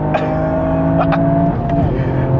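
A Toyota Supra's engine roars steadily at high revs during a quarter-mile drag race against a GR Yaris, climbing through the gears with brief shifts, loud and close from inside the vehicle.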